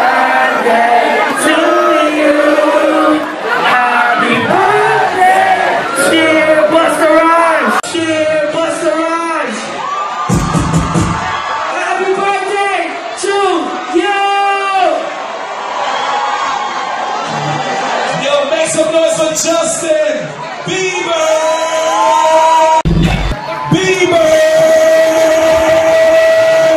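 A concert crowd screams and cheers loudly and continuously at a birthday party, with music and shouting voices mixed into the dense roar.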